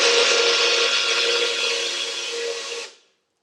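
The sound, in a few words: blender blending frozen Aperol slushee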